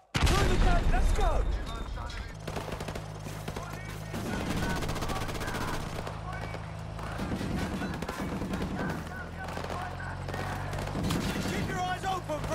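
A breaching charge blast and rapid gunfire in Call of Duty: Modern Warfare Remastered. A sharp explosion and volleys of shots come first, then sustained firing runs under shouted voices.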